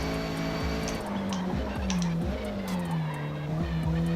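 A race car engine in the Forza Motorsport video game at Spa runs near redline, a steady high-revving whine that pulls through several quick gear shifts with faint clicking over it.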